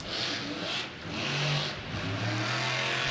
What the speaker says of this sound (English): She's got that motor really zinging